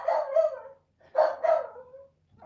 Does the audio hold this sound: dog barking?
yes